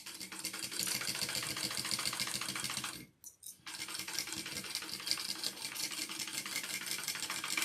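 Sewing machine stitching a harlequin pouch, running in steady continuous bursts with a brief pause around the middle before resuming, close and fairly loud with no talking.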